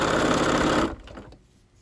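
A sewing machine stitches folded fabric mask ties in a steady, close, loud whirring run that stops abruptly, followed by faint handling noise.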